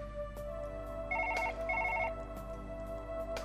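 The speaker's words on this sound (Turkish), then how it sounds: "şu telefon bir sussun" In the video game Surgeon Simulator, a telephone rings in two short electronic trilling bursts over a low steady background hum, with no voices.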